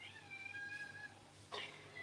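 A hungry pet cat named Madeline meowing for food, a faint drawn-out whine with one sharper cry near the middle, in a quiet room.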